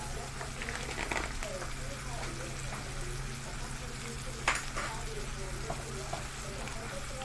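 Flour browning in butter for a milk-thickened sauce gives off a steady soft sizzle and crackle across the whole stretch, with faint background talk and one brief sharper clatter midway.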